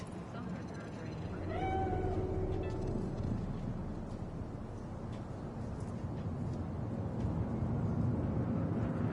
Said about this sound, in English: Do you see it? The cat.